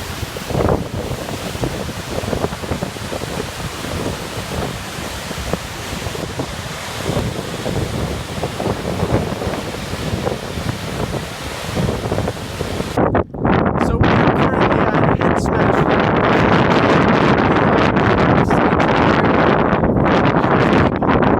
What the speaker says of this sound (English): It is incredibly windy up here.